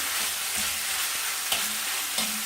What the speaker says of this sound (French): Donc bien remuer pour que la cuisson soit homogène sur tous les mincés de bœuf.